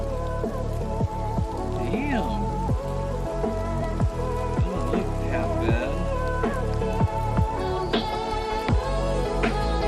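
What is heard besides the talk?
rain in video game Oblivion Remastered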